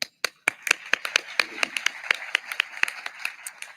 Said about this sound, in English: And continue that applause for Judge Urbanski and the court party.